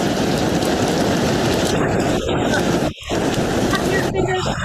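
Webinar audience imitating a rainstorm by tapping fingers and blowing to make wind, a dense continuous patter and hiss that briefly dips before resuming.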